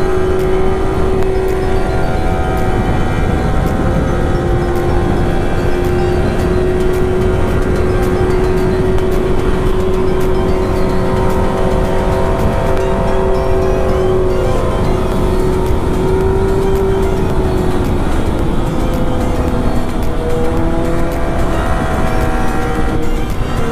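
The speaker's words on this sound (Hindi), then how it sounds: "उस बाइक के सामने ना अपने बाइक का ना कोई आवाज ही नहीं सुनाई दे रहा है" Loud sport motorcycle engines, including a Kawasaki Ninja Z900, KTM RC200 and Yamaha R15, rev and drone continuously up close on an evening ride, pitch climbing and holding as the throttle opens, with no talking.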